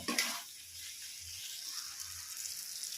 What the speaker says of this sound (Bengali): এবার মশলাটাকে আমি 4 থেকে 5 মিনিট কষিয়ে নেব।